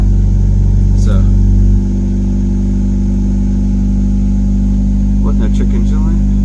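A 1992-95 Honda Civic EJ1 engine idles loud and close with a steady low rumble that drops slightly in pitch after a moment, while a person talks briefly over it.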